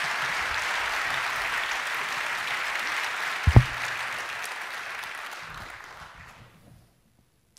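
Audience applause welcoming Dr. Konstanze Kurz onto the stage at a talk-series event, a steady dense wash of clapping with a brief sharp thump midway, gradually thinning and fading out near the end.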